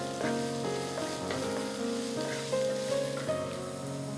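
Chopped capsicum sizzles steadily in a hot pan while stir-frying for mixed fried rice, a close, continuous crackle with soft stirring scrapes and no talking.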